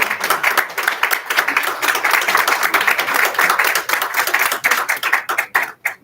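A school board meeting audience applauds educators with dense, steady clapping from many hands that stays loud throughout and begins thinning out near the end.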